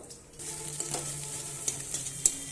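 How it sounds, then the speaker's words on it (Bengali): Chopped potato, carrot, onion, green chili and coriander fry in a pan with a soft, steady sizzle and a few light clicks of stirring over a short stretch. "এটাকে আমি ভালোভাবে ভেজে নেব।"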